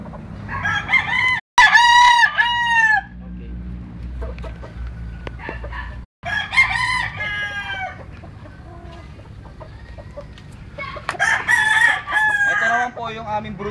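A three-year-old broodcock gamecock crows loudly and close by three times in succession, each long call separated by a pause, with a few soft clucks and faint farmyard background between them.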